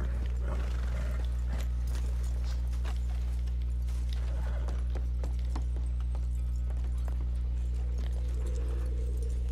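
Horse hooves clip-clop steadily at a walking pace in the video game Red Dead Redemption 2, a continuous run of close hoofbeats over a constant low hum.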